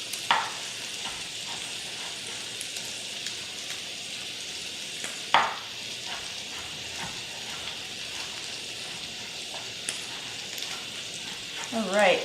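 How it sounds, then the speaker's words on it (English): Sausage sautéing with onion and garlic in a pan for baked penne: a steady, close frying sizzle and hiss, broken by a few sharp clicks and scrapes from stirring, with brief voice sounds in the background. "We're going to saute it with the onion and garlic."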